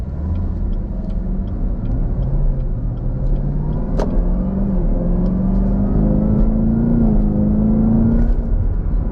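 2022 Chevrolet Camaro ZL1 in snow and ice mode, its engine rumbling loudly from inside the cabin as it accelerates smoothly, the pitch climbing gradually without sharp revs.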